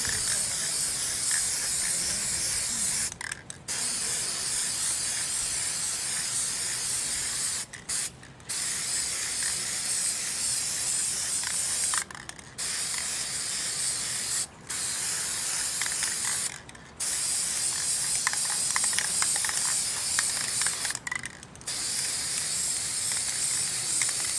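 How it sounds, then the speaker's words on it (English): Long hissing bursts of aerosol spray paint on a canvas outdoors on a windy day, close and loud, broken by several brief pauses between strokes. "it looks like the wind is picking up most of my spray paint"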